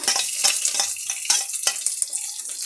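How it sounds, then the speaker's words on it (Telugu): Fried onions, curry leaves, dried red chillies and garlic crackle in a pan, with a constant bright sizzle broken by quick stirring clatters throughout. "ఇంగువ వేసి ఫ్రై చేసుకోవాలి"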